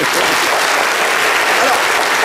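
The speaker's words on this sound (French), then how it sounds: "Et applaudissements pour cette émission." A studio audience applauds steadily and loudly for a French talk show, dense clapping filling the whole moment without a break.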